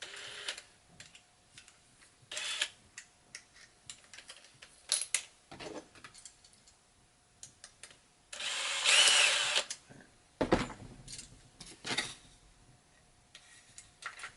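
A power drill runs in short bursts with one longer sustained whir, broken up by clicks and small handling noises between pulls of the trigger.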